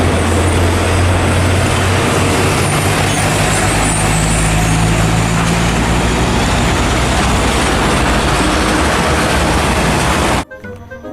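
A toy tow truck gives off a loud, steady, rumbling engine and road noise that runs unbroken for about ten seconds, then cuts off abruptly.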